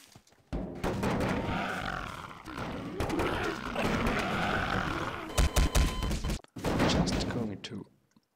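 In the Garry's Mod video game, a drum gun prop cannon fires in a loud, dense burst of rapid booming blasts, broken by short pauses and overlapping with a speaking voice.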